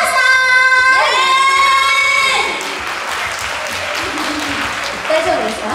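Audience applause at a rally in a Tokyo hall starts after a sustained sung or musical note fades, then continues as a broad, even wash of clapping with a voice coming in near the end.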